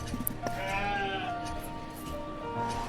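In the Banished game, sheep bleat in the pasture with several wavering calls overlapping against snowy ambient noise, fairly close and loud.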